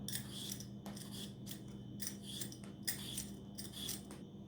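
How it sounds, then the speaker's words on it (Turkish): Quiet, rhythmic scraping strokes repeat every half second or so as potatoes are peeled before dicing into cubes, close and faint with no talking. "Öncelikle kabuklarını soyup daha sonra küp küp doğrayacağım"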